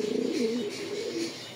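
Racing pigeons at a pigeon farm give low, rolling coos, close and fairly soft, repeating over a quiet background.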